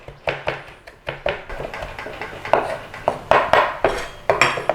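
Curly parsley is mashed in a bowl with a utensil, giving a string of regular, close, sharp knocking and clinking strikes, roughly two or three per second, with no talking.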